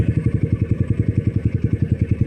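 A Kawasaki KLX 150 motorcycle with a damaged CDI idles close by, its single-cylinder engine thumping in a fast, even, steady rhythm throughout.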